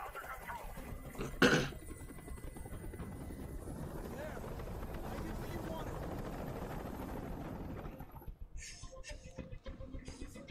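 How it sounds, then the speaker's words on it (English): Steady mechanical helicopter rotor drone from the video game Detroit: Become Human fills the scene, preceded by a short sharp burst, then gives way to scattered clatter near the end. "can't stand that noise anymore. Tell that helicopter to get out of here."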